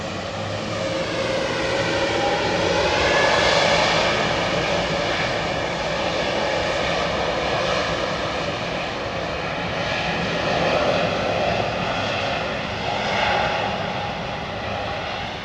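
An airplane at London Heathrow Airport gives a loud, sustained engine roar whose tones slowly rise and fall as it passes, with no talking.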